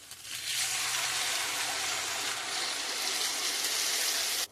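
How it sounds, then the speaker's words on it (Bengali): Water pours into a pan of cauliflower and potato curry being cooked for Bengali aloo dum, a steady, close splashing rush that holds for several seconds. "এতে দিয়ে দেবো পরিমাণ মতন জল"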